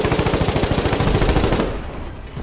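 A tank's machine gun in the video game Foxhole fires a rapid, close burst of loud rounds that stops abruptly after about a second and a half, with no one talking.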